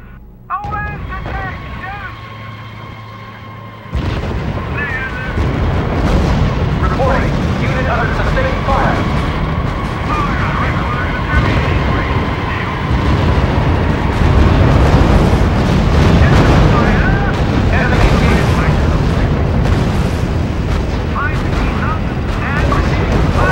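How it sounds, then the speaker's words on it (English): Artillery fire in the strategy video game R.U.S.E. comes as dense, loud, continuous rumbling booms and blasts after a quieter opening, with radio-style voices talking over the barrage. "Unit opening fire on the enemy!"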